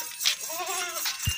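A pure Beetal goat gives a short bleat with a wavering pitch at moderate loudness, followed by a brief low thump. The animal is kept in a livestock setting with crossbred goats.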